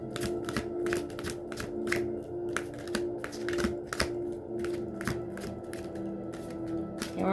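Tarot cards are shuffled by hand in a rapid, continuous run of crisp riffling clicks and slaps, close and steady, over a faint background hum.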